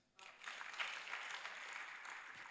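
A crowd claps steadily for a couple of seconds, a dense wash of applause that starts abruptly and holds at a moderate level.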